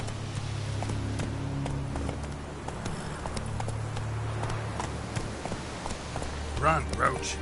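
Roach, a horse in The Witcher 3, gallops with a steady rolling clip-clop over a low rumbling game backdrop, hoofbeats continuing throughout and a brief louder scuffle near the end.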